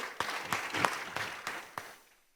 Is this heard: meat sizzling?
no